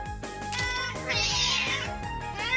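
A cat gives a short meow over music with a thumping beat.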